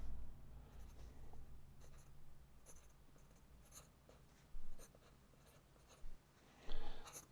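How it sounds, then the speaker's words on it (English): A pen writes on a paper rocket fin template up close, making soft scratchy strokes in short bursts with a few louder scrapes and taps and pauses between them. "we're just going to write on it Shapeshifter."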